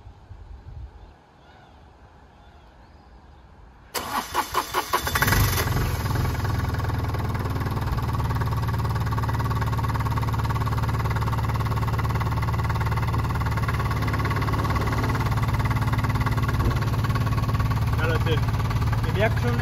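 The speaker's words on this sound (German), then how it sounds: "Ich mache kurz einen Soundcheck, damit ihr hört, für was ihr überhaupt mehr Geld zahlt, denn der Motor ist wirklich sehr ruhig und leise" A 2018 Microcar Dué Premium microcar engine cranks and catches at about four seconds, then settles into a steady, quiet, close idle that runs evenly to the end.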